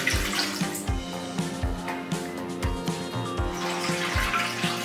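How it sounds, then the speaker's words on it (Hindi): Water poured into a heated kadhai on a gas stove, a steady splashing flow with repeated gurgling pulses, close and fairly loud, no talking. "अब मैं डालूंगी इसमें पानी"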